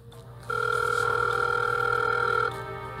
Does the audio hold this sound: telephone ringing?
yes